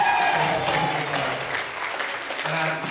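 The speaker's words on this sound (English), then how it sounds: "we've all had a round of applause and no one's given Dave one" An audience at a Gala Bingo staff show in Scunthorpe claps in a round of applause. The clapping is dense and continuous at moderate volume, with some faint voices mixed in.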